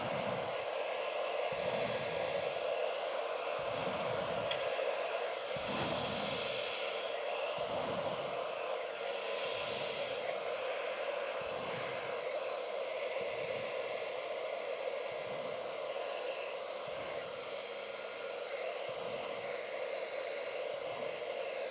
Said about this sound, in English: The air temperature of the blower is set to cold.